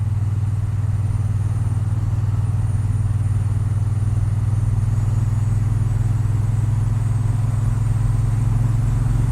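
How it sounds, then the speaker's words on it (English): A Triumph Bonneville T120 1200cc motorcycle engine idles steadily, a continuous low throbbing hum that holds even and loud throughout. "the engine is that beautiful 1200 high torque engine"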